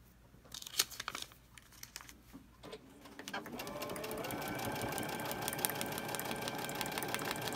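A sewing machine stitching a paper-pieced quilt block, preceded by paper crinkling and handling, then a steady fast mechanical whir that runs continuously, close up.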